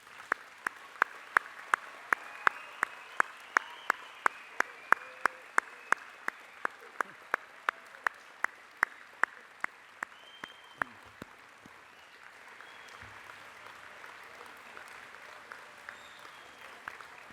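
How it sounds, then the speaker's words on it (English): An audience at a university Faculty of Science, Medicine and Health graduation ceremony applauds the graduates. Sharp, evenly spaced claps ring close over a softer spread of crowd clapping, then stop partway, leaving a quiet hall murmur. "join me in congratulating our graduates by giving them a warm round of applause"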